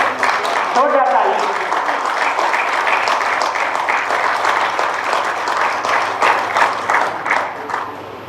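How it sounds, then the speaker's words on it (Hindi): Loud, steady applause from an audience at an appointment letter ceremony for district sports officers in Ranchi, dense clapping running the whole time with a voice briefly heard near the start. "जोरदार ताली।"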